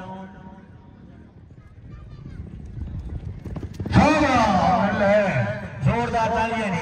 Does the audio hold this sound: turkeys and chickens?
no